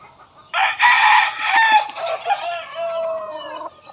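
A gamefowl hen, half Gilmore Sweater and half Boston Roundhead, lets out a loud, drawn-out harsh call close by. The call lasts about three seconds in an otherwise quiet setting.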